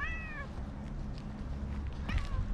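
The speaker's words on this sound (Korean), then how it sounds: "또 보자 고양이들" Two short cat meows, one at the start and another near the end, fairly close over a low background rumble, in Kyrgyzstan.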